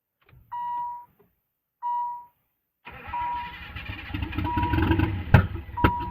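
An RB25DET engine in a Z32 300ZX cranks on its first startup: two short beeping bursts, then a rough cranking churn that sputters and builds loudly with uneven pops near the end.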